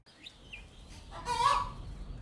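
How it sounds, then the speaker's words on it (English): Farm chickens cluck and squawk close by, a few short calls followed by a louder drawn-out cry, with no talking. "I have chickens, egg-laying chickens, meat bird chickens."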